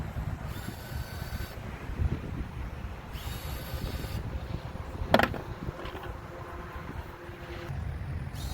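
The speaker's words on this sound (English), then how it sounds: "Wind's blowing pretty good." Wind blowing hard outdoors along a fence line, a steady low rumble of gusts buffeting the microphone throughout, with one brief sharp knock partway through.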